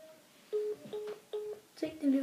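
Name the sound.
telephone dialing a number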